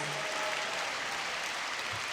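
Gala audience at the Louisville Urban League Derby Gala applauds donors, a soft, distant, continuous patter of many hands that stays even and fairly faint for its whole length.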